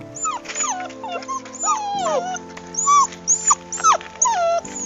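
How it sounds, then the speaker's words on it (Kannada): Several small puppies whimper and whine in high, wavering cries, overlapping one another continuously over a low steady background hum. "ಅಮ್ಮನನ್ನ ಕೂಗಿ ಕರಿತಾ ಎಲ್ಲ ಕಡೆ ಅಡ್ಡಾಡ್ತಿದ್ವು ಟಾಮಿ ಮತ್ತು ಶಾಮ"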